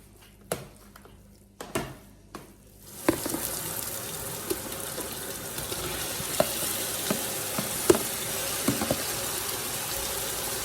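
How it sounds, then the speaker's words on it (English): Pasta is stirred with a spoon in a pot, with a few spoon knocks on the rim at first, then a steady bubbling sizzle and light scraping and tapping over it, close by. "Take the spoon and like mix it really well."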